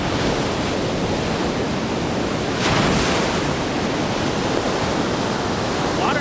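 Ocean waves wash onto a beach on the west coast of Puerto Rico, a loud continuous roar of surf with wind buffeting the microphone.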